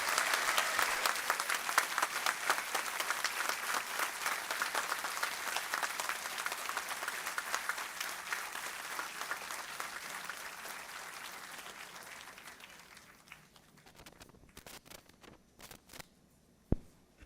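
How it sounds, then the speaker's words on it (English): At a convocation for the School of Planning and Architecture in Vijayawada, a large audience applauds the degree recipients with long, dense clapping that slowly fades to a few scattered claps and rustling near the end. "Now you all may now give applause and claps for all degree recipients."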